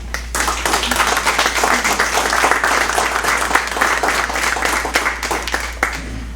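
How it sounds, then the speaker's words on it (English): Attendees at a school district board meeting give a steady round of applause, dense overlapping clapping lasting throughout over a low constant room hum. "just want to give you a big round of applause"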